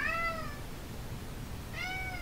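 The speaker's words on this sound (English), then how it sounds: "Give a meow." A house cat indoors gives two faint, short meows separated by a pause, heard alone against quiet room noise.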